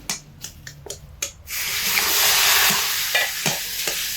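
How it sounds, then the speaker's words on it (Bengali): Water poured into semolina in a hot pan: several sharp scraping taps of a spoon, then a sudden loud hissing sizzle that swells and lingers, broken by more stirring knocks near the end. "এখানে আমি আবারও একটু জল অ্যাড করে দিলাম"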